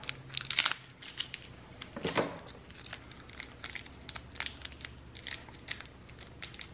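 A small plastic toy packaging bag is crinkled and handled close by in quiet, irregular bursts of crackling, with a louder rustle early on and no talking.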